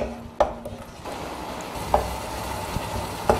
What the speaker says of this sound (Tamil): அது போகிற வரைக்கும் நம்ம கிண்டிக்கிட்டு கிளறிட்டு இருக்கலாம்